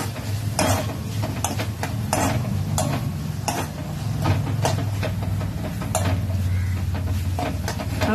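Onion sautéing in an old pan, with a steady sizzle under repeated scraping and stirring strokes, close and moderately loud throughout.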